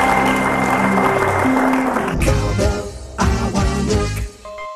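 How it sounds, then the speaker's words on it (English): Studio audience applause on the Cowbellpedia televised maths quiz show, a steady wash of clapping blended with loud show music, which swells and carries on after the clapping settles. "a round of applause to all three of them."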